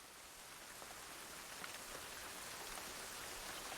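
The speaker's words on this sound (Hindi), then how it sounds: "बारिश रुक ही नहीं रही।" Steady rain falls outdoors, a dense, even hiss of drops that continues without pause at a moderate level.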